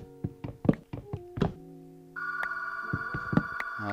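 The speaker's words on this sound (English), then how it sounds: "Great, phone's ringing." A few soft knocks and thunks are followed by a telephone ringing with a steady, continuous electronic tone. It sounds fairly faint and there is no talking.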